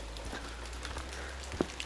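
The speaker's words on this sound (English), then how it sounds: "So the rain should stop then sometime." Light rain patters steadily on a coastal walk from North Head to Manly in Sydney, with a soft continuous wash, a low hum and one brief louder drip near the end.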